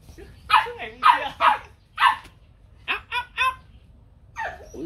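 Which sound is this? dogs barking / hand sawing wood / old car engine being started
dogs barking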